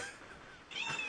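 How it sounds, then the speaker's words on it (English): A house cat lets out a short, faint meow near the end of the moment, heard alone in a quiet room. "my cat just meowed also"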